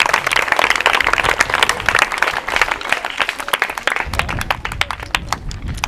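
A group of schoolchildren clapping in unison during a mass drill with Kolatam sticks, dense steady rhythmic claps filling the space outdoors, loud and continuous throughout.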